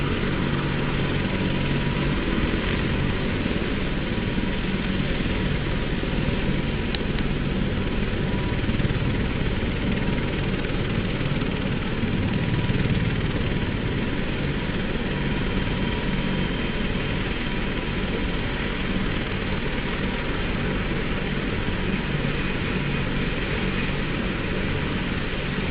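A Chinook helicopter's engines idle in a steady, dense low drone that stays even throughout, loud and close with no talk over it.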